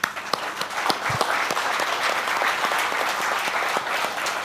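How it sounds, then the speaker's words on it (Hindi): Audience applause at a speech event, dense steady clapping from a large crowd throughout, loud and close with no talk over it. "आई वॉन्ट तालियां ऑन दिस।"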